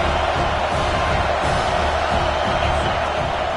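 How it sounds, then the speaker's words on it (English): Football stadium crowd roaring: a loud, unbroken wall of cheering and shouting from a huge crowd, dense and sustained with no pauses. "This crowd knows when to bring it."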